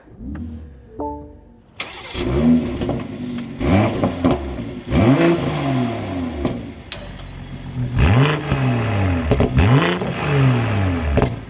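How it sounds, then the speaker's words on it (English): A 2026 BMW M240i starts up with a brief starter whir and catches. It settles into an idle, then gives several loud, close revs that rise and fall in repeated sweeps. "let's start this up and take a listen to how the 240 sounds"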